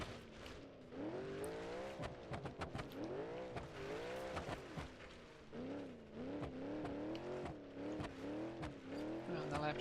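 A damaged car in BeamNG.drive grinds along with a rising and falling engine drone and tyre noise through changing speeds and turns, with someone talking over it throughout.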